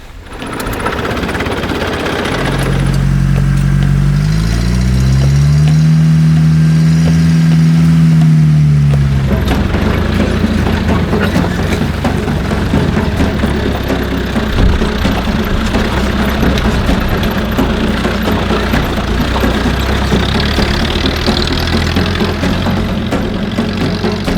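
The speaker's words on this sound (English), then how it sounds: "As they tackle that task, Ale, Ariana, and I decide to traverse our way to the nearby village of Bangnem proper in the company car to pick up some snacks" Company car driving toward a village in Northern Luzon, Philippines: a steady, loud engine drone with road rumble continues throughout, with a rising and falling tonal whine in the first part.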